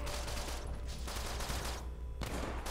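Gunfire in The Bourne Conspiracy video game, a dense clatter of shots amid loud continuous game noise with a couple of brief gaps between bursts.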